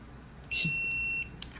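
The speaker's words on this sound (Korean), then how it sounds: "잡고 있으면 불 들어오면서 삑삑거리잖아" A single high electronic beep from a cordless pruning shears' safety lock rings out for under a second against a faint background hum, then stops.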